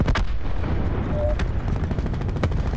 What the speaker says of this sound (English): Watch out for the grenade, watch out for the grenade.